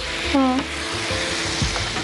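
Food fries and is stirred in a pan on a television cooking show, a dense, close sizzle with scraping strokes, and a brief voice-like tone rising over it.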